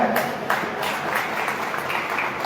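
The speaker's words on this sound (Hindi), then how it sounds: "तालियों से इनका स्वागत।" Audience at a talent felicitation ceremony claps to welcome honorees, a moderate, steady patter of applause with a few sharper individual claps.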